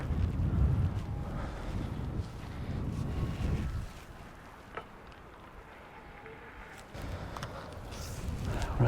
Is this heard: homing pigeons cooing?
no